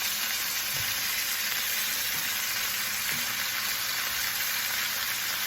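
Onions and bay leaves hit a hot pot for a Moroccan-style pot roast, setting off a dense, continuous sizzle that stays steady throughout, with a few faint low bumps of stirring underneath and no voices.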